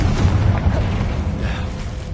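Bombarda and Confringo spell explosions in the Hogwarts Legacy video game, a loud, continuous booming rumble with overlapping blasts throughout, no voices audible.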